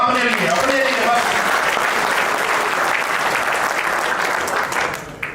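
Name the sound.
audience applause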